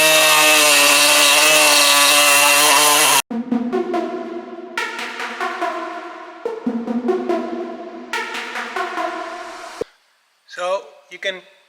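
An angle grinder cuts through the frame rails of a VW T6 van, a loud, steady whine that shifts in pitch as it bites and eases off, pausing briefly between cuts.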